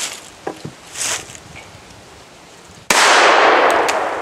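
A .22 LR pocket pistol fires Winchester Super X rounds: a loud, sharp report cuts in abruptly after a few quiet clicks and handling sounds, then leaves a sustained wash of noise.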